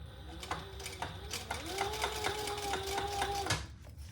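A sewing machine bastes the sides of a shoulder bag closed, starting with a few short bursts and then running in a steady rapid stitching whir for about two seconds before stopping.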